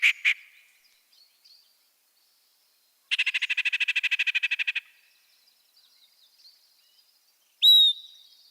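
A yellow-breasted chat, a warbler of moist riverside shrubbery, gives a varied, bird-mimicking song of whistles, clucks and hoots: two sharp notes, then a quick rapid-fire rattling burst, and later a loud rising whistle, with quiet gaps between.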